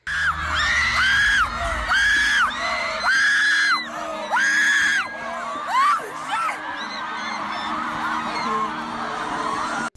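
A swarm of fans shrieks and screams around BTS member Jungkook in France, with loud overlapping high-pitched squeals and yells rising in repeated waves, dense and close for the first half before settling into a steady, slightly lower roar of crowd noise.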